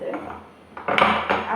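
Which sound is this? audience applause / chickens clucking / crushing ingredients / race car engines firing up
crushing ingredients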